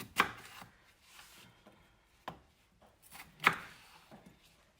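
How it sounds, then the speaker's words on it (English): A knife chops potatoes into quarters on a cutting board, giving three sharp distinct thwacks spaced a second or more apart, with softer handling noises between them, close and quiet. "Oh, this one definitely getting a rough chop."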